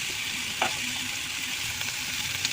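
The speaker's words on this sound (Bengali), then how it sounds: "ভালো করে কষিয়ে নেব।" Spice masala of chili and turmeric powder stir-fried in a pan for egg bhuna curry, a soft continuous sizzle with a few scrapes of the spoon, heard close and with no talking.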